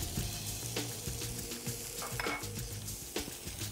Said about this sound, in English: I'm going to add the shallots right in now.